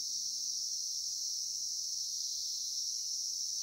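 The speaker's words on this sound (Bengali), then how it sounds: "ঝিঝি পোকার ডাক শোনা যাচ্ছে দুপুর 1টার সময়।" Crickets trill at midday on a quiet roadside in the Darjeeling hills, making a steady, unbroken high-pitched buzz that holds evenly throughout with no other sounds.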